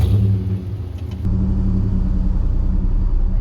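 Tiny car revving hard while pulling on a building, engine roaring loud and close, dipping briefly before surging back to a sustained, strained drone.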